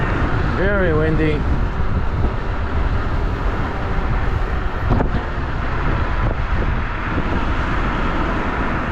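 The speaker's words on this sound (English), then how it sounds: "Very windy." Strong wind buffets the microphone during a fast car drive across a bridge, a steady loud roar throughout with road and engine noise underneath.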